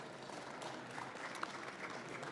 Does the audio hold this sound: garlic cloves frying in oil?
no